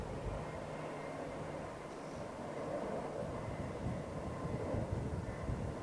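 An Airbus A319 airliner passing at Heathrow, a steady broad jet roar with a low rumble that holds evenly through the few seconds, moderately distant and alone with no talk.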